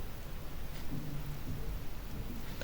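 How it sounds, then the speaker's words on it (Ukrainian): A sponge in a home experiment gives off a steady, close, even fizzing hiss that continues throughout without any voices. "Ну шипить."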